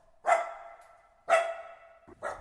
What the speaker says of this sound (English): He was barking his head off to remind them not to forget him.